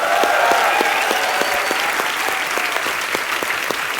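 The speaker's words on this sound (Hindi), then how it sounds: "इनके लिए जोरदार तालियां हो जाए" Studio audience applause on a TV comedy show, loud and sustained, with a steady wash of clapping, crowd noise and faint musical tones running underneath throughout.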